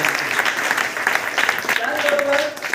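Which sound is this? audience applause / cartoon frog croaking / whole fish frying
audience applause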